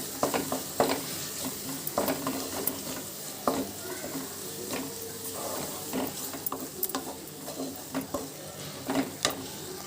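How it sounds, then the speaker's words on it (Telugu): A spoon stirs chili powder and turmeric through cooked vegetables in a pan for veg biryani, making steady scraping and clacking strokes over a faint sizzle, with no talk. "కలిపేసుకొని one and half table spoon కారము పావు టేబుల్ స్పూన్ పసుపు కూడా వేసేసి మొత్తం కలిసే విధంగా కలుపుకోవాలి"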